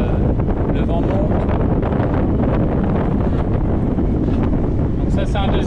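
Wind gusting hard at sea during a squall on a sailing boat off Corsica, a loud continuous roar buffeting the microphone with splashy surges, while someone speaks faintly underneath.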